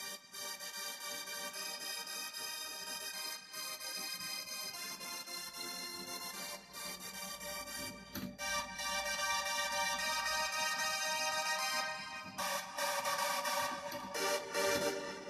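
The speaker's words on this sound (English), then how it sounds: "And underneath that I use chords." Layered synthesizer chords swell and shift, bright and sustained, building fuller partway through with no voices.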